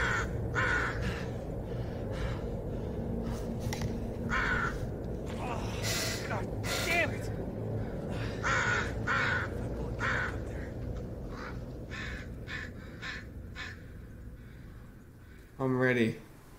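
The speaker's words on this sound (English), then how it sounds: "This stupid crow." Crow caws recur through a Blair Witch horror game scene, sharp harsh calls over a steady ambient forest bed, with a person talking over much of it.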